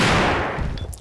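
A single shotgun blast in Resident Evil 2, loud and close at the very start, its boom decaying over about a second into faint trailing game noise.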